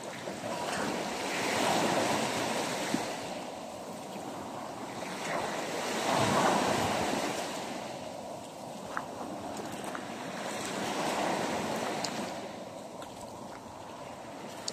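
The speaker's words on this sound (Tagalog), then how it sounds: "Gagmay ra siya nga balod." Small waves break on a calm sea shore, rolling surges swelling and easing in a slow rhythm over a constant wash of surf and light wind noise, with no voices.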